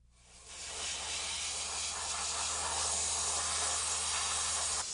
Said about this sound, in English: Fine-grained sand is blasted through a hose under high pressure and out a nozzle with a small opening.